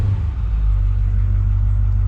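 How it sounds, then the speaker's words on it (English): A Ford F450 truck engine idles after a repair, a steady, close, low rumble that holds even and unbroken throughout, with no voices. "I'm gonna let her idle here for a little bit"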